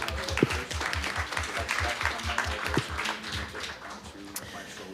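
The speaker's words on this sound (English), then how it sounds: "I'd like you guys to give them a round of applause" Audience applause for finalists at an entrepreneurship launchpad competition finale, a continuous patter of clapping from a room of people, moderately loud, with voices and a low rhythmic thumping running underneath.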